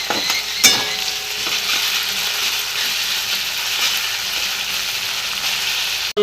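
Spice paste fries in oil left over from frying bottle gourd leaf fritters, giving a constant, close, loud sizzling hiss with a few faint clicks of stirring and no voices.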